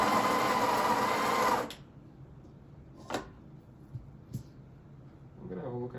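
A Breville Barista Express BES870 grinder purges retained coffee grounds from its chute: a loud, steady motor whir for under two seconds stops abruptly, then a few faint clicks and knocks follow in a quiet room.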